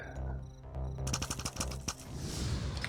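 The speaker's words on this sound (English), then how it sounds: "I did take a shotgun blast there" Gunfire in the Phoenix Point video game, a rapid burst of sharp close shots followed by a noisy fading tail, with a quiet musical tone at the start.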